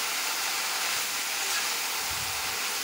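Fiddlehead fern greens (dhekia) fry in a hot pan with a steady, loud, broadband hiss that barely changes from start to finish; no voices.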